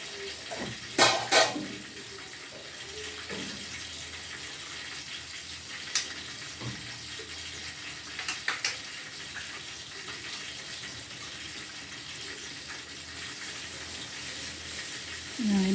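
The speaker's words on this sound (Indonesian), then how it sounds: "ini akan saya bersihkan dulu ya, dikasih air ini ya." Tap water runs continuously into a sink while food is washed for opor ayam with tofu and eggs, with occasional close clinks and splashes.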